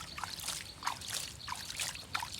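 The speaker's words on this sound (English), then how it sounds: "Now I put some water" Water poured over a toy tanker truck while it is cleaned, trickling and splashing in soft repeated bursts at low volume, with no talk.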